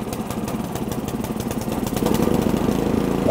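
A small engine on an Ariens snowblower runs with a steady, close chugging rumble that grows louder and fuller about two seconds in, with no talking.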